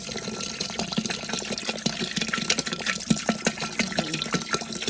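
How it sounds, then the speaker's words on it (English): Water pours steadily with a splashing, gurgling rush, as if into a pot, close by and moderately loud, with no voices. "A little more water to this."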